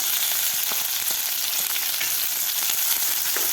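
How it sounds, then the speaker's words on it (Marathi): Vertically sliced onion fries in hot oil with green chilli for bajra khichdi, a continuous close sizzle with a few faint stirring knocks and no voices. "कांदा आपल्याला दोन मिनटासाठी व्यवस्थित परतून घ्यायचा आहे"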